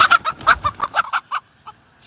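A hen clucking beside a round hay bale, about eight short, loud, close clucks in a quick rhythm that slows and fades to a couple of quieter calls at the end.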